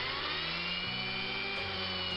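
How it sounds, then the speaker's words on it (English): A small power drill bores into the die-cast front end of a Hot Wheels tow truck toy car, a steady high-pitched whine with slight pitch drops as the bit bites, heard close and alone. "And here I'm drilling open the front end,"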